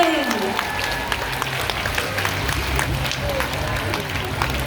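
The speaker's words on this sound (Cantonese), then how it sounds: "現在先以熱烈嘅掌聲歡送主禮嘉賓、校監、各位校董及嘉賓" Applause from parents and guests at a kindergarten graduation ceremony, a steady even clapping that holds for the whole stretch, with a voice talking over it.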